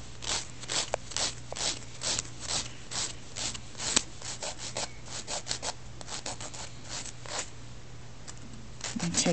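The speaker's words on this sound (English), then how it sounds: "Going underneath and rocking your file is called beveling." Nail file bevelling the edges of a French white tip dip overlay: quiet, close, rhythmic rasping strokes, short and repeated, with brief pauses.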